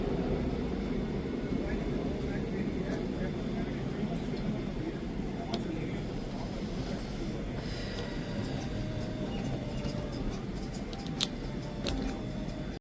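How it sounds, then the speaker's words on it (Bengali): An airplane passes overhead under a darkening pre-rain sky above green fields, a steady distant roar that stays even throughout, blended with outdoor ambience. "প্লেন যাচ্ছে, এখন আবার প্লেন গেলেই ভয় লাগে"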